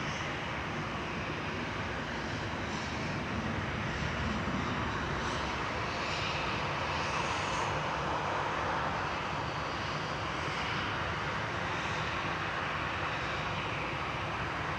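A TUI Airways Boeing 737-800 departs Manchester Airport for Palma de Mallorca, its jet engines a broad, steady roar that holds loud and unbroken for the full length, with no talk over it.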